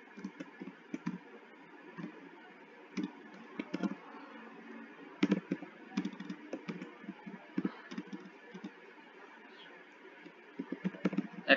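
Computer keyboard typing for an email subject line, close and fairly quiet, with irregular bursts of keystroke clicks and short pauses throughout.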